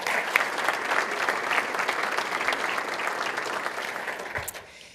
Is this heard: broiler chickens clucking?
no